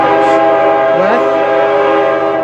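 A CN freight train heading westbound in Kimball Township blasts its horn in one long, loud, steady chord close by, over the rumble of passing rail cars.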